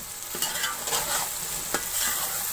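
Pickled ingredients, including carrot pickle, are stirred and fried in a pot for achari pulao, with a spoon scraping repeatedly over a steady background sizzle.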